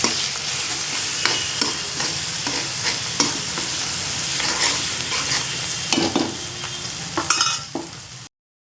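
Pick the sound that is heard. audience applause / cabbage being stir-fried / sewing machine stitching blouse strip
cabbage being stir-fried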